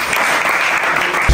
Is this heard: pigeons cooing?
no